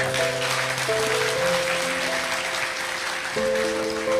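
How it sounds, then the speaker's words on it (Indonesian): An audience at a religious sermon applauds steadily while sustained tones ring underneath. The clapping is moderately loud and continuous and holds at an even level. "tepuk tangan untuk Allah Subhanahu wa taala."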